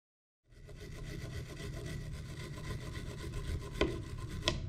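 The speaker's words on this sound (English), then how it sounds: "It was important to get the existing paint removed or at least sanded down" Old paint sanded off a steering wheel during restoration, a steady close abrasive rubbing that starts abruptly and continues with rapid rhythmic strokes and a couple of sharper scrapes near the end.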